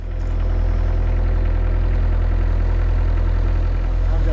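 A large excavator's diesel engine idles steadily while warming up outdoors before clearing fallen trees, a loud, constant low rumble that holds unchanged throughout.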